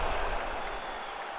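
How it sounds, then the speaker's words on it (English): Arena crowd at a UFC fight applauding between rounds, a dense wash of clapping and cheering that is broad and steady, fading slightly over a moment and a half. "So the crowd voicing its appreciation after that round."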